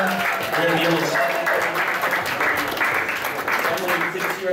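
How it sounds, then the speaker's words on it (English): At an anime convention game show, an audience gives a short burst of scattered clapping while a host talks over it. "Come on, give her a round of applause."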